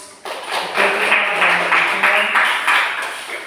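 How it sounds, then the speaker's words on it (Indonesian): An audience applauds at a family-themed gathering, a loud, close burst of clapping that swells quickly and carries on in uneven pulses, with a voice faintly under it. "kita beri tepuk tangan untuk"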